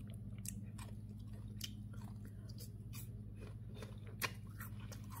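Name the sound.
chewing an apple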